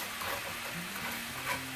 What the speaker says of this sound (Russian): наливаем немножко воды и сделаем из сахара карамельку. Аккуратненько помешиваем